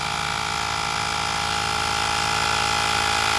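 A Michelin MC12265 portable tire inflator pump runs steadily and loudly, giving a constant motorized drone with a buzzing whine that holds even from start to end, with no voices.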